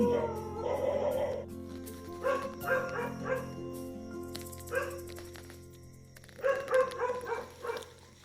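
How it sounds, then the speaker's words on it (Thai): A dog barks at night in short clustered bursts of yips and bow-wows, separated by quiet pauses, fairly close and clear with no talking. "กลางค่ำกลางคืนเห่าดีมาก"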